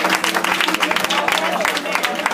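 A church congregation claps along during live worship, steady dense hand claps filling the room close and loud, with voices and music running underneath throughout.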